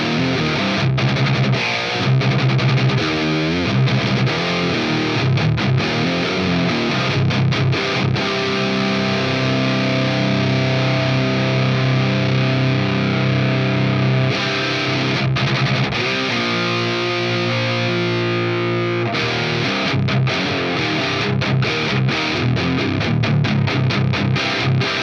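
Heavily distorted electric guitar through an Axe Fx modelling a Soldano rectifier hybrid amp with the Solo 100 tone stack, playing loud chugging riffs and sustained chords continuously with no talk.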